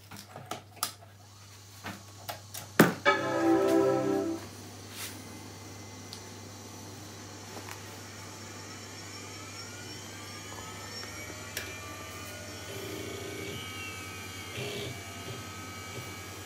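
A Macintosh Quadra 700 computer powers on with a few clicks, a short buzzing burst, then a low steady fan and drive hum that settles in close and faint.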